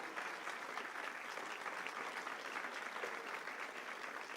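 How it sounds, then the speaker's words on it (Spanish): A church congregation applauds steadily during a Friday worship service, dense clapping holding at an even level throughout without letting up. "Dale una fuerte el aplauso al Señor."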